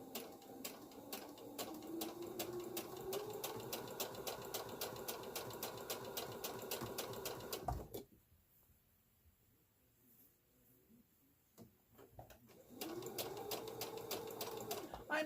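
A sewing machine stitching a girl's apron, running in a fast steady rhythmic clatter, stopping for several seconds and then starting again, close and moderately loud.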